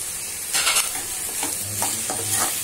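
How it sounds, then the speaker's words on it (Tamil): Capsicum for dragon chicken sizzles as it sautés in a pan. A constant frying hiss runs underneath a few scraping stirs, all close up and with no voices. "ரெண்டையும் சேர்த்து ஒரு 2 மினிட்ஸ் வதக்கலாம்"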